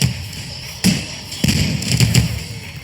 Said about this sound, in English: Mortars will automatically explode if they directly connect with an enemy, like that.